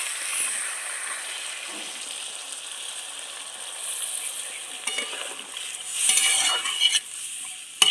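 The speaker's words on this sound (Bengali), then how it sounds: "পরিমাণ মতন জল দিয়ে দেবো" Water goes into a pan of frying tangra fish curry with fried spice paste, raising a loud hiss and bubbling sizzle, with a few utensil clinks and a surge of sizzling near the end.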